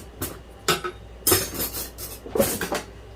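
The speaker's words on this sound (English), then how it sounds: "Let me get a spoon." Metal cutlery clinks in a home kitchen while a spoon is fetched during fudge cake baking: four short, bright rattling bursts spaced unevenly over a few seconds, fairly close, with no talking.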